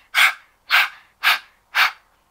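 Four quick, evenly spaced breathy huffs from a human voice mimic a small dog panting, sounding close and distinct with brief silent gaps between them.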